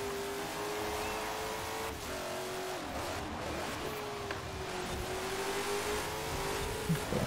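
Race car engine of a '68 Firebird in the Forza Horizon 4 racing game, a steady sustained drone with shifting pitch as it accelerates on a circuit, loud and close throughout.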